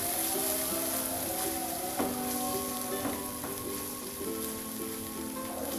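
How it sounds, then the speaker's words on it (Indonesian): Coconut milk being stirred into a pan of beef stew, a soft bubbling sizzle with occasional scrape and clink of a spoon against the pan, steady and close, no talking. "Masukin air santannya. Kita aduk-aduk ya sampai rata."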